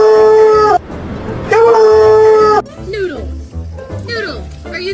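A dog howls up close in two long wavering howls, then gives softer whimpering yips, with a person talking over the later part.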